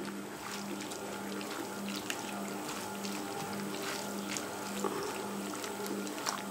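Grated potatoes rubbed by hand in a bowl of water, giving a steady watery swishing and sloshing with small splashes, close and continuous throughout, no voices.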